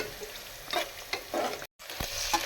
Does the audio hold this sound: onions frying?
yes